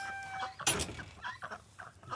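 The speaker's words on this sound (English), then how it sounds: "There's our ducks." Ducks kept at an animal sanctuary give faint, scattered calls with a brief sharper burst, heard from a distance in a quiet outdoor setting.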